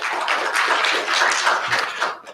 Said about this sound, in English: they're applauding for TCP